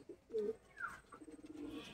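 Racing pigeons cooing: a few short, soft, throaty coos within under two seconds, faint and somewhat close, with no talking.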